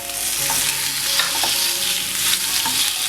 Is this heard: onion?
yes